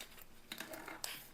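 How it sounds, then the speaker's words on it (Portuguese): Scissors cut parchment paper around a baking pan for a cake base, giving a few faint, crisp snips in quick succession with no talk. "Essa ponta eu coloco bem no centro da forma e recorto com a ajuda de uma tesoura aqui,"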